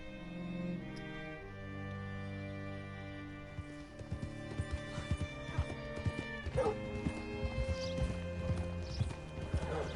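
Horse hooves clip-clopping in Red Dead Redemption 2, a steady rhythmic clatter that begins partway through over a soft musical drone, with a brief whinny.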